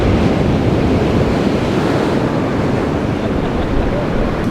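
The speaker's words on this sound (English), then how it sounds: "the water comes crashing in from the ocean into these pools in there, makes the whitewash champagne" Ocean surf surges and crashes into rock pools on Fraser Island's shoreline in a continuous, loud, roaring wash of whitewater, with wind buffeting the microphone.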